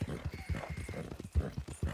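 Horse hooves clip-clop at a quick, steady rhythm in the video game Red Dead Redemption, a fairly faint, even gait of a Tobiano American Paint horse with no talk over it.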